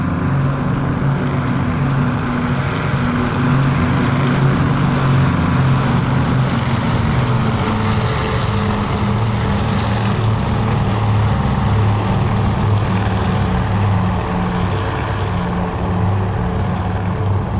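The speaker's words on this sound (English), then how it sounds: "Let's listen to those twin Allisons on the P-38 Lightning." Twin Allison piston engines of a P-38 Lightning drone loudly and steadily during an airshow pass, a deep, continuous throbbing roar that holds for many seconds without break.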